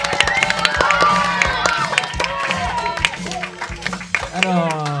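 A studio audience claps together at the close of a live school club broadcast, a steady, loud wash of applause lasting several seconds with voices and cheering mixed in.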